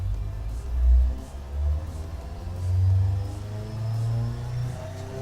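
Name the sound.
turbo car engine revving on dyno, Automation video game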